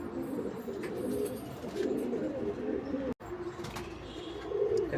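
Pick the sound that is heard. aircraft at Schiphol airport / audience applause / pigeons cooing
pigeons cooing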